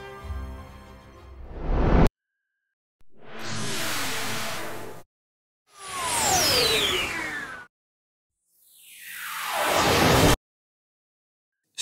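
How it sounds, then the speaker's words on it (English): A TIE Fighter-style spaceship flyby synthesized by an AI sound-effect generator, heard as four separate loud whooshing passes with rising and falling whine, each cut off abruptly and separated by brief silences. "TIE Fighter inspired spaceship flyby."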